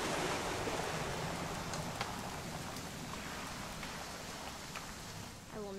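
Rain pours steadily in What Remains of Edith Finch, a broad constant wash with scattered drip ticks, ending with a faint rising chirp.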